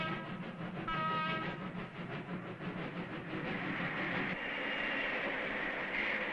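Anime train running through wetlands, a steady rolling rumble with a brief whistle-like tone early on, continuous and fairly close.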